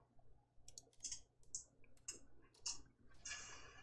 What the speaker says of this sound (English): there's all the clicking and stuff from the teaser